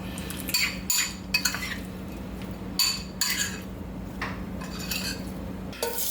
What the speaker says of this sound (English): all we want to do is give that a stir just to incorporate everything